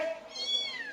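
A single soft, faint cat meow, drawn out and slightly rising in pitch, heard alone without any talking.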